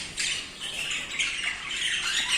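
A male pearl white-face cockatiel squawks repeatedly, loud and close, in a series of harsh, shrill calls with brief pauses between them.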